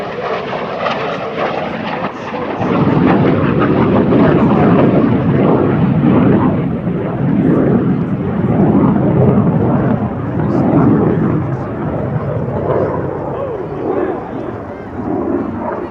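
A MiG-17F fighter jet flies past at an air show, a loud broad engine roar that swells after a couple of seconds and stays strong, with an announcer's voice over it.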